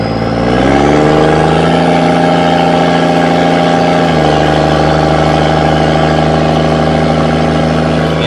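A mostly stock Cummins diesel with a 4-inch stack idles loud and close, its pitch rising briefly early on before settling into a steady, heavy rumble with no one talking.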